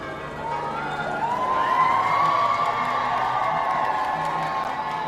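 A crowd of about a hundred people cheering and shouting, a broad swell of whoops and raised voices that rises after the first moment and holds steady, with a siren-like tone gliding through it.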